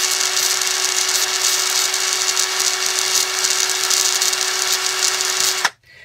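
A power tool grinds steadily across a scrap tire wheel during a wheel swap, a loud continuous high whine with a fixed tone that runs for over five seconds and then cuts off abruptly.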